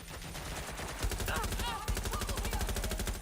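Rapid automatic turret gunfire from the Watch Dogs Legion video game, a dense, continuous stream of loud bursts with a heavier thump near the start and another mid-way, plus faint electronic chirps layered over the shooting.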